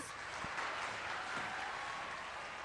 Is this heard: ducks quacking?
no